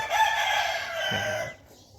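A young rooster about three months old crows once up close, a strained, breaking cock-a-doodle-doo that trails off into quiet.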